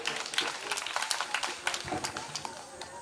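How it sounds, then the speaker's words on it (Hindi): Scattered, fairly sparse clapping from an audience at a Hindi kavi sammelan poetry gathering, irregular hand claps continuing for a few seconds, close and moderate in level. "वैसे तालियां कम बज रही हैं"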